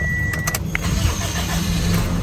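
A car engine cranks and catches after a starter repair, then runs with a steady, close, fairly loud rumble and a few brief mechanical clicks early on.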